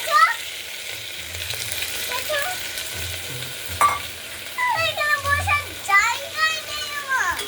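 Washed mung dal hits hot tempered oil and sizzles loudly, with stirring scrapes over a continuous frying hiss, while children's voices chatter in the background.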